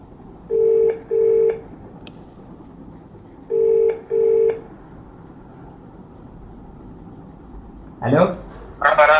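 A mobile phone's keypad tones beep in two quick pairs as a number is dialed, clear and close in a quiet room, followed by a voice speaking.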